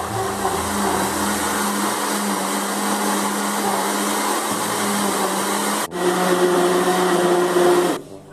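Electric hand mixer beating ground-beef pancake batter, a steady loud whirring drone that runs unbroken, briefly cuts out, then resumes slightly higher and stops near the end.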